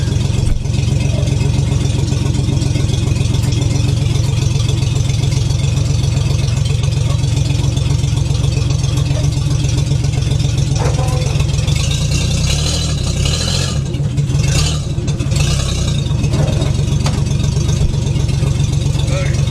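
A Hudson Hornet with a Chevy gas pedal idles and backs up in reverse, its engine giving a loud, steady low rumble throughout while someone talks nearby.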